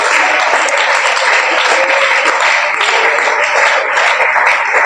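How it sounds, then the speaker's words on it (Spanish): A church congregation applauds at an evening worship service, dense continuous clapping from many hands filling the room, loud and sustained with no break. "si alguien lo quiere alabar, aplauda su presencia en esta noche"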